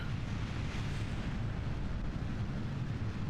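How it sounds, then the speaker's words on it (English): Low rumbling explosions of falling rocket debris hitting the ground in Kerbal Space Program, a steady dull roar with no distinct separate blasts. "In a minute you'll hear some explosions. That's gonna be that debris hitting the ground."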